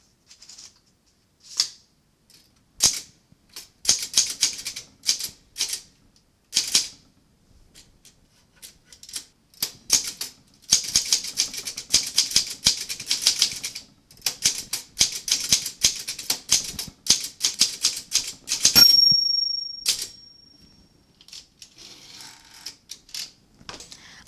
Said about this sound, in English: here is a type sample